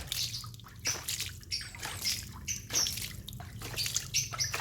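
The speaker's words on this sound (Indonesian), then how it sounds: "Coba kita cuci dulu, disiram." Water poured over freshly dug plant roots to wash them, a continuous soft splashing and trickling outdoors with faint bird chirps in the background.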